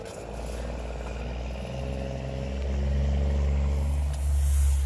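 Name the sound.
truck driving away from grain bin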